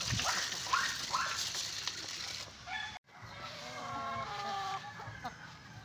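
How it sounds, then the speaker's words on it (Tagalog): Breeding hens cluck and squawk nearby in a short burst of overlapping calls, freshly bathed, with rustling in the background. "Ito na mga ka-farmers yung ating mga manok na pinapaliguan kanina."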